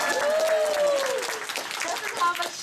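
Audience applause and cheering for a presenter named Olivia at an event, a sustained wash of clapping with voices and whoops mixed in throughout.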